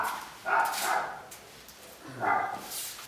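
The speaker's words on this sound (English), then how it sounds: "She doesn't stop barking." A dog barks indoors in two short bursts of barks separated by a pause, moderately close and not very loud.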